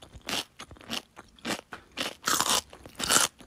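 Loud, crisp crunching of Carnitos Taco flavored Pringles chips, several bites in an irregular rhythm, each a sharp burst with quieter chewing between, close to the ear with no talking.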